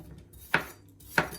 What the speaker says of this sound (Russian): Затем будем нарезать овощи и шампиньоны.